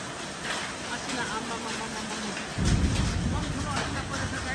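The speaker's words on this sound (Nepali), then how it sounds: "ठुलो असिना परेको छ" Heavy hail falling in Pokhara, Nepal: a dense, steady hiss of impacts that suddenly swells louder with a deep rumbling roar partway through, continuous and fairly faint overall, with a voice heard at times.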